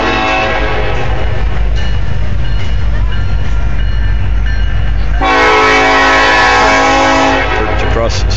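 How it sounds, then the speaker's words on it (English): A train rolls past up close with a steady heavy rumble and rail clatter, then a loud sustained horn blast sounds over the passing cars. "Some trains coming down."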